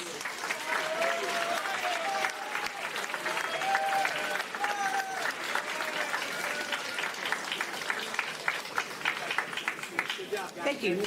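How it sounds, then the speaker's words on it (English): An audience claps steadily at a school class celebration breakfast hosted by a Kiwanis club, sustained dense applause across the room with some voices mixed in and a brief whistle-like tone near the end. "Let's give them all a round of applause."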